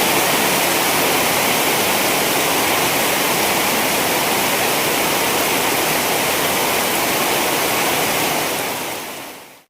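Steady, dense rain pours down without a break, a loud, even hiss that fills the whole stretch and fades out only at the very end, with no voices.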